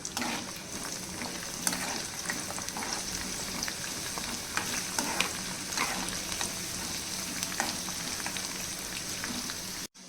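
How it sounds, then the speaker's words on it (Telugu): Crushed garlic with its skins and pieces of dried red chilli fry in hot oil, giving a dense, continuous close-up sizzle with scattered popping crackles throughout, ending abruptly. "ఇప్పుడు ఇది వేగుతూ ఉంది కదా"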